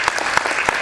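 Brief burst of audience clapping at a World Soil Day opening ceremony, a steady wash of hands with a few sharper claps standing out.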